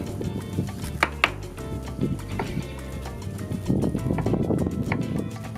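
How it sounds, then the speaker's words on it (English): Knife chopping chimichurri ingredients such as tomatoes and onion into small pieces on a board, a run of quick, close uneven thuds and taps that thicken into a dense flurry toward the end. "Cut it in little pieces"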